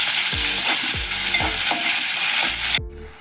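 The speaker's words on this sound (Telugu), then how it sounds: "ఆనియన్, పచ్చిమిర్చి బాగా ఫ్రై చేసుకోవాలి." Onion and green chillies fry loudly in hot oil with garlic, cumin and curry leaves, a dense steady sizzle broken by about six rhythmic scraping stirs of a spoon against the pan, ending abruptly.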